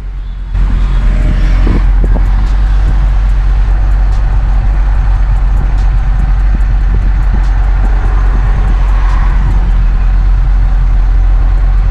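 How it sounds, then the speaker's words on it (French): An Audi RS3 Sportback with a 400 hp engine idles and rumbles in traffic in Dubai, heard from inside with the windows lowered, a loud steady low exhaust drone starting abruptly and continuing throughout, with no voices. "Je vais baisser les vitres pour que vous puissiez écouter le bruit de l'échappement."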